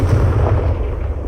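A Confringo fire spell in Hogwarts Legacy lets off a single short, booming blast with a deep, rumbling body that fades quickly.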